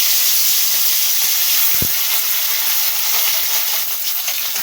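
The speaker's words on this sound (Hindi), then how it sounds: "एबे कड़ाई रे तेल गरम करी सेथरे माछ को भाजिबा" Fish frying in hot oil in a kadai gives a continuous loud close sizzle and hiss, with one brief low knock partway through.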